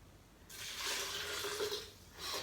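Water pours into a bowl of chili mayonnaise mixed with lemon, onion, garlic, salt and chili powder, a soft splashing trickle that starts abruptly and runs for about two seconds, quiet and close, with no talking.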